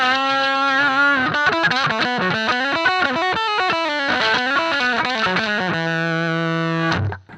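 Electric guitar played through a BC15 15-watt vintage tube amp in high gain mode, heard alone: loud, thick distorted chords and riffs in quick rhythmic changes, ending with a sustained chord cut off abruptly.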